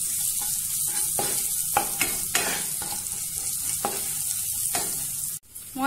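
Shol fish fries with turmeric and salt in hot oil, a steady close sizzle broken by repeated scraping strokes of a spatula stirring the pan, ending in a brief clatter.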